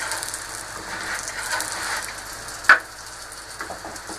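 A keema paratha cooks in a hot pan with a steady, rain-like sizzle, broken once by a single sharp clatter near the middle, moderately loud and close.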